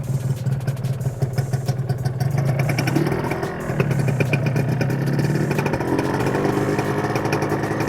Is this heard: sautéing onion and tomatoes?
no